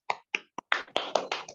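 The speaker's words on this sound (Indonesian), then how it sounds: "Tepuk tangan ke semuanya dulu" A class of schoolchildren claps together in a short series of sharp, loud hand claps, spaced unevenly at first and then falling into a quicker rhythm, with no talking.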